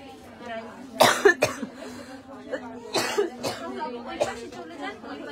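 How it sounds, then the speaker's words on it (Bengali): Several sharp coughs burst out close by, two quick ones near the start and another a couple of seconds later, over a background of people talking. "আজকে আমার লাইভে খালি কাশির শব্দ"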